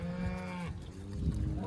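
Cattle being separated in a pen give a long, deep moo close by, then a second lower lowing call, with faint trickling in the background.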